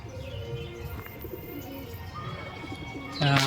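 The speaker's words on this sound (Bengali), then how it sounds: "আর আমার দুটো পায়রা উঠছে এই দেখো বাড়ির উপরেই চলে এসছে" Soft pigeon coos in the open at dusk over a low background hum, ending with a brief louder burst near the close.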